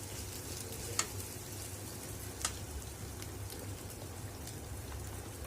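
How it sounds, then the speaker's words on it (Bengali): Onions and chillies sizzle quietly in a hot pan, a soft continuous crackle broken by a couple of sharp pops. "প্রথমে আমরা পেঁয়াজ এবং মরিচ ঢেলে দিলাম, কিছুক্ষণ তা গরম করতে হবে"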